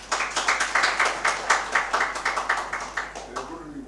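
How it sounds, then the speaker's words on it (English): Scattered rhythmic clapping from a small audience at a hands-on ERCP medical training course, honoring the two course teachers; clear separate claps at a moderate pace, fairly close, with faint talk underneath. "big applause for both of them, please"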